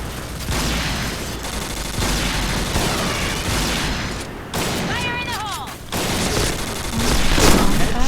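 Gunfire rings out in a video game as rapid bursts and scattered shots crackle over a busy, continuous background, with players' voices mixed in.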